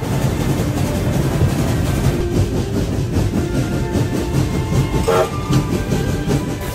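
An American-built steam locomotive from Ohio, dating from around the Second World War, departs on the Keighley and Worth Valley Railway with a loud, continuous rumble and rhythmic chuffing, heard up close from the footplate, with a brief higher squeal partway through.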